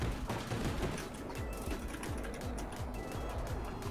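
Rapid automatic gunfire from a shooting video game (Black Ops 1) chatters continuously in a steady, dense stream, fairly faint in the mix.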